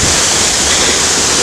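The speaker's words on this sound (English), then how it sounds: "we're at a waterfall, not Montezuma Falls." A waterfall near an abandoned tram line roars loud and constant, a dense wash of white noise filling the whole span with no voices.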